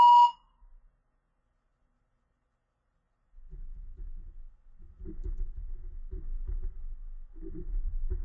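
Short electronic timer beep from a spoken-English practice test, a single clear tone at the start, followed by silence and then low faint rumbling noise.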